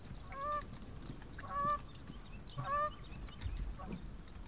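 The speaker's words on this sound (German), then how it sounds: "Die Ente. Oder Schwan oder was das ist." Goose-like waterfowl honks from a duck or swan in the survival video game The Forest, three to four repeated calls about a second apart, fairly close and clear over a low ambient background.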